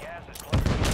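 A short burst of rapid gunfire in the Call of Duty Warzone video game starts abruptly halfway through, loud after a quiet moment.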